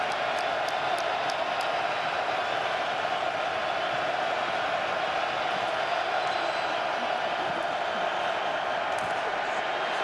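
A packed stadium crowd roars through an XFL football game, New York Guardians at St. Louis Battlehawks, on fourth down: a dense, constant wash of cheering that stays loud and unbroken for the whole stretch.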